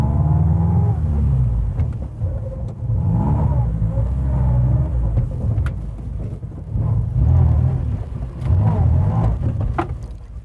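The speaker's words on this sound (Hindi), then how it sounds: "अरे क्या हुआ, गाड़ी क्यों रोक दी?" A car engine runs steadily with a low rumble, fading and returning as the vehicle drives then comes to a stop, with brief talk over it.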